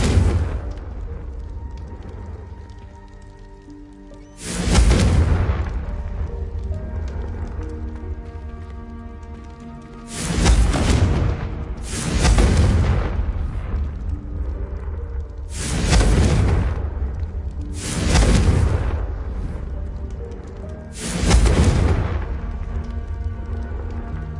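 Confringo explosion spells fired in Hogwarts Legacy, five loud booming blasts at roughly even intervals, each with a long rumbling tail, over a steady background of game ambience.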